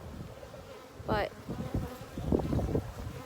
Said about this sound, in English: Here's a lot of bees right here.